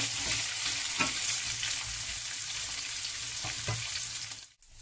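Sausages brown in a pan for a cassava-and-sausage breakfast, a continuous close sizzle with a few soft knocks as they shift, cutting off abruptly near the end.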